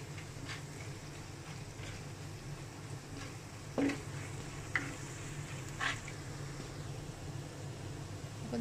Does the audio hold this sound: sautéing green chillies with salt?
yes